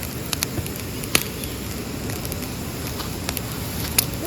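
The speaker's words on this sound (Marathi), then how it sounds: "दिसतो तर चांगलीच पेटली इकडे" Wood fire of split sticks burning outdoors after rain, set up for roasting crabs, a steady broadband rush with occasional sharp crackles and pops, no voices.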